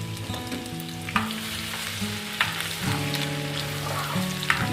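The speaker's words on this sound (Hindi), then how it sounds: "अब हम इसमें डालेंगे अदरक। अदरक को करेंगे ब्राउन।" Chopped ginger browning in hot oil and desi ghee for a mixed dal. A steady, close crackling sizzle runs throughout, with occasional clinks and scrapes of a stirring spoon and no talk.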